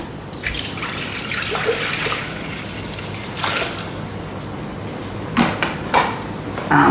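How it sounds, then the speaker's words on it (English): A litre of water pours into a Thermomix bowl, a rushing, splashing stream that swells and fades in bursts, with a few knocks and clatters near the end and no talking. "and then we're going to put in a litre of water"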